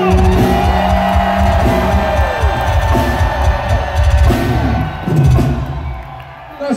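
A concert crowd at a show in the Michigan Lottery Amphitheatre, Sterling Heights, roars and cheers loudly and continuously, a dense wash of noise that barely dips across the whole stretch.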